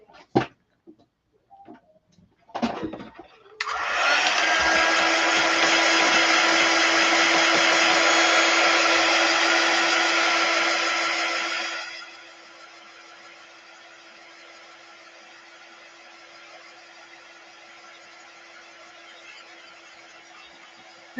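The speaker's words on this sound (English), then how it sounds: "let's plug in my drying tool" A craft heat drying tool switches on with a few handling clicks, then whirs loudly and steadily as a broad airy roar with a faint whine for about eight seconds before dropping to a quieter continuous hum.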